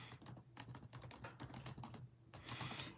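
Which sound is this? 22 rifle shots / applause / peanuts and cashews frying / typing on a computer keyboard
typing on a computer keyboard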